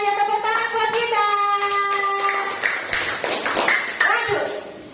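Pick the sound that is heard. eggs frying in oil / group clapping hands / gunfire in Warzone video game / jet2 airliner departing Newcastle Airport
group clapping hands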